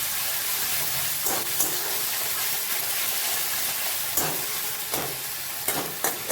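Onion, ginger and garlic spice paste fries in hot oil with a steady, loud sizzle, broken by a few sharp clinks and scrapes of stirring at irregular intervals; no voices.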